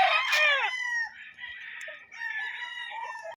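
A rooster crows loudly up close, followed by softer hen-like calls and clucking from breeding fowl on a farm, with no talk.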